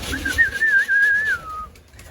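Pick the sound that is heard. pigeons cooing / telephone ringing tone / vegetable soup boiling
pigeons cooing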